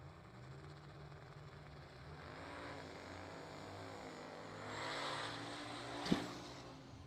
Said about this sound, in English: Beautiful smoky burnout there by Bailey DuPont, the grudge racer out of Michigan.